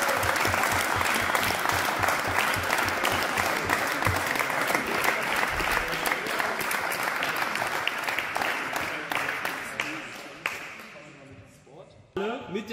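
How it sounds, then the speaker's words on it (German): Crowd applause at a darts championship event, loud, dense clapping that sustains for several seconds, thins and fades toward the end, then a brief voice or noise cuts in. "Ein großer Applaus"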